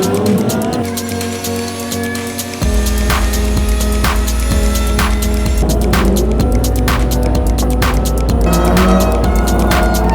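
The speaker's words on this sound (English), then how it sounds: "Greens are on and we're away racing." Race cars at the start of a three-hour New Zealand endurance championship final roar and throb loudly, engines surging as the field gets away, with layered engine drone and passing cars, no talking.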